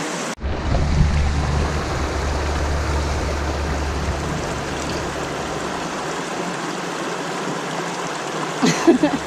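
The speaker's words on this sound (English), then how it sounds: "I'm watching it go over the little like waterfall rock things and it's pretty clear water" Clear stream water pours continuously over small rocks in a little waterfall, a steady close rushing wash with a brief louder splash near the end.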